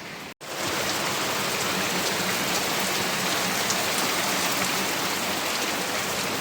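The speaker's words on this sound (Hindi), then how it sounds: "कितनी ज़्यादा बारिश हो रही है" Heavy rain pours down steadily, a dense unbroken hiss that fills the whole clip after a brief dropout at the start.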